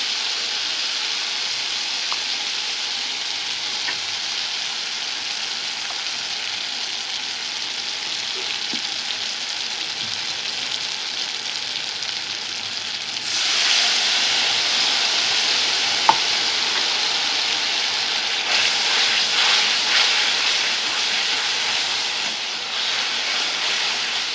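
Ground spice paste frying in a pan for a Bengali-style yam kofta curry, a steady broadband sizzle that swells louder midway as more goes in, with a faint tap or two of a utensil; no one speaks.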